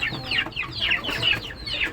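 Desi chickens cluck and chatter while eating feed, a steady run of short, repeated calls from several birds close by, with no one speaking.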